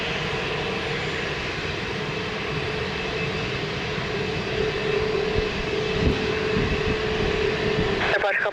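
Airliner engines roaring at Lisbon Airport during takeoff, a steady loud rumble and whine that swells slightly toward the end, with muffled talk underneath.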